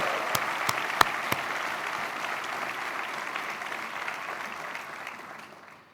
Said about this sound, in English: Maybe we can give a first round of applause to the support staff who has made this happen